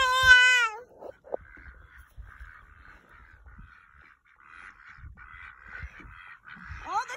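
A loud meow-like squawk opens, followed by a long run of faint, rapid nasal quacking in the background, with a final honking call at the end.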